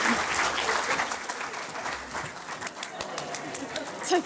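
An audience at a conference panel on living with pulmonary hypertension gives a steady round of applause, a continuous wash of many hands clapping with a few sharper claps standing out near the end.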